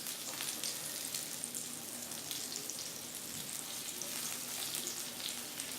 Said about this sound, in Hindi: और सिम पर हम इसे दोनों तरफ हल्का गोल्डन ब्राउन होने तक सेक लेंगे।